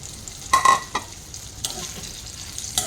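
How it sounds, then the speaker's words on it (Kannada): Cut okra frying in hot coconut oil, a close steady sizzle with a few louder bursts and spatula stirs over about three seconds, no speech. "ತೆಂಗಿನೆಣ್ಣೆ ಬಿಸಿ ಆದಮೇಲೆ ನಾನು ಆಲ್ರೆಡಿ ಕಟ್ ಮಾಡಿಟ್ಕೊಂಡಂತಹ ಬೆಂಡೆಕಾಯಿಯನ್ನು ಅದಕ್ಕೆ ಹಾಕಿ ಫ್ರೈ ಮಾಡ್ತಾ ಇದ್ದೇನೆ"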